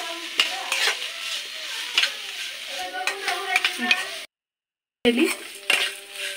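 Red chutney ingredients fry and roast in a pan with a close sizzle and frequent spatula scrapes and clinks against the metal, interrupted by a short silent gap.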